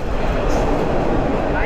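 Chattogram University shuttle train running through trees, a steady close rumble of wheels and carriage noise, slowing down as it nears a station.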